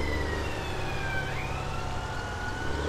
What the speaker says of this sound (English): don't know if you can hear sirens in the background.